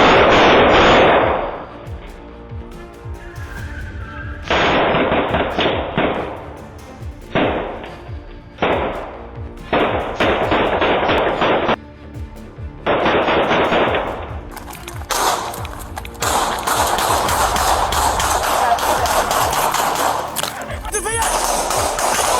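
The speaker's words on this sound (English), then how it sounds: "A shootout erupted. Officers returned fire from behind their patrol unit." Rapid bursts of gunfire during a police shootout, loud, close volleys broken by short pauses, with heavy sustained firing toward the end and talk faintly mixed in.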